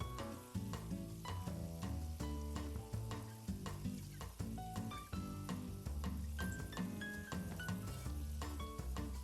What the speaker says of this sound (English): I'm going to add some onions in here as well too.